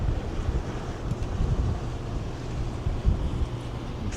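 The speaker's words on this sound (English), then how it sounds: "Feel the breeze." Wind gusts across the open pool deck of the Norwegian Aqua cruise ship at sea in the Caribbean, a steady rumbling buffet against the microphone with a soft wash of distant water beneath.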